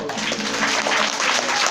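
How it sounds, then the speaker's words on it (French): Dense, steady applause from a crowd, many hands clapping at once without pause. "il faut les applaudir, ils sont là."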